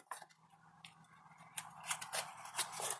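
Scissors cutting out pieces for a volcano fire mask craft: a quick series of crisp snips, close and fairly loud, coming in an uneven rhythm.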